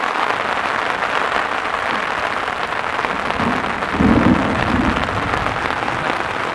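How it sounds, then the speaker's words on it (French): Heavy rain pouring loudly and steadily in the Hautes-Alpes, France, with a low rolling rumble of thunder swelling midway through. "Et ça tonne."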